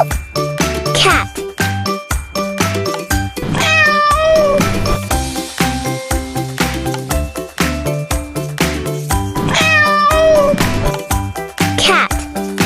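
Cat meows sound twice over jingly, upbeat children's music, each a short cluster of high, wavering cries.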